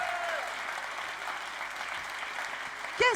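Small audience at a youth event in Longpont-sur-Orge clapping steadily at moderate volume, with a faint voice underneath and a brief louder bump at the very end.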